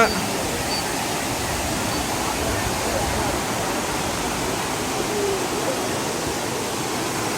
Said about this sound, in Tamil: பாருங்க, தண்ணி நிறைய ஃபால்ஸில் நிறைய போகுது, தெரியுதுங்களா?